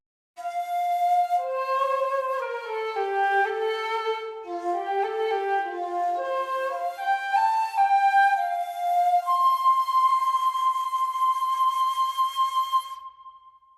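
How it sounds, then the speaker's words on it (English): A breathy shakuhachi, a Japanese bamboo flute, plays a slow, bending melody of sustained notes, close and clear, ending with a long held tone. "the shakuhachi is a Japanese type of flute"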